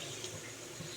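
Water poured into a plate while making paneer masala, a brief steady splashing pour lasting about a second, close and moderately loud.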